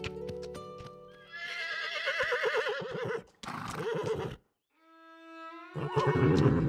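A horse neighs loudly and close, long wavering whinnies with snorts and hoof clops, separated by a brief silence.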